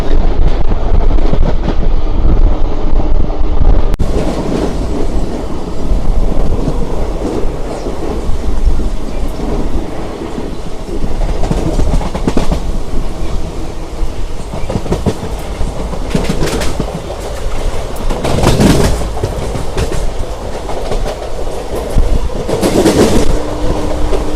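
A special fare SF express train runs from Charlapalli toward Tirupati, a loud continuous rumble and rattle of the carriage heard from inside, steady throughout with occasional clacks and no talk.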